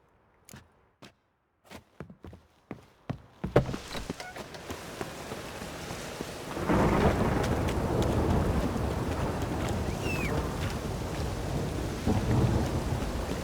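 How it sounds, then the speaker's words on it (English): A thunderstorm in The Witcher 3: Wild Hunt. It starts with scattered sharp drips and cracks, then builds into steady, loud rain with rolling thunder that swells to a dense, continuous downpour. "A storm, damn it."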